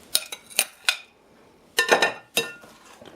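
Oatmeal chocolate chip muffin batter is mixed in a bowl with irregular bursts of clinking and scraping as a utensil knocks against the bowl, separated by short quiet gaps.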